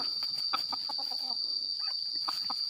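Wild jungle fowl crowing in the rainy season, with a few short clucking and crowing calls from a rooster at moderate distance over a steady high insect drone.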